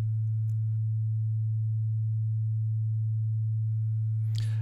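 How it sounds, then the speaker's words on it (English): A twin-oscillator synth setup in Mixtikl sustains a single pure, steady low sine tone, constant in level throughout, with only faint clicks at the start and a brief noisy blip near the end. "Now you can hear the second oscillator playing"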